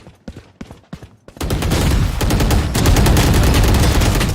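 Gunfire in the tactical shooter Valorant: a few sharp isolated shots, then a dense, loud sustained burst of rapid fire that continues without pause to the end.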